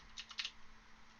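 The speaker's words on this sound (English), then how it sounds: "Now, for completion's sake, let's type in" Several quick keystrokes on a computer keyboard while entering a web address during a network setup, a short soft burst of clicks with no talking.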